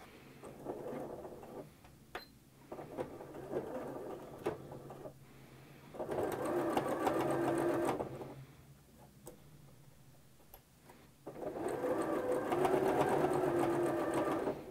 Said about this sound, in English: you'll follow that fold with the left side of your presser foot and sew all the way down